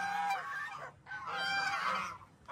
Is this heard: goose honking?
yes